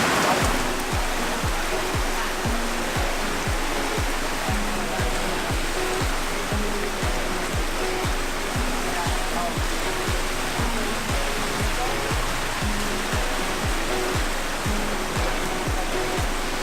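Heavy tropical rain pours down steadily in Bohol, Philippines, a dense, loud, unbroken hiss that stays constant from start to finish.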